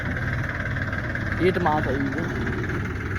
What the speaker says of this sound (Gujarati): જો રિવર્સ લાગે છે ટ્રેક્ટર, રિવર્સ મારે ટ્રેક્ટર.